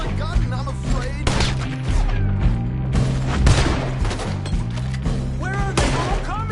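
Red Dead Redemption 2 gunfight, enemies firing repeated loud gunshots in close bursts amid crashes and clatter, with shouting voices and game music running underneath.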